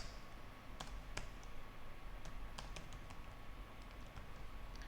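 Computer keyboard typing a passphrase, a scattered series of quiet, crisp key clicks at an uneven pace, close and faint.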